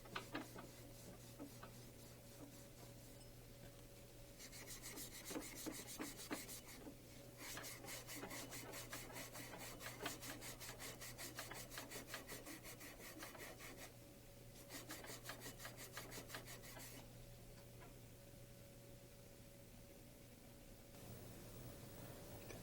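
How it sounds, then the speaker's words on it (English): A metal Rotorway 162F rotor shaft is deburred where a lock ring set screw marked it. The rasping, filing strokes come in quiet, steady rhythmic bursts with short pauses between them and no talking. "Deburr the shaft where the lock ring set screw marked the shaft."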